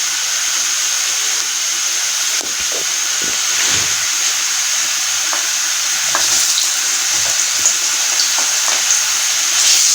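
Garlic-ginger paste sizzles in a pan of golden-brown fried onions, a loud continuous frying hiss with occasional stirring scrapes and clicks close by, no talking.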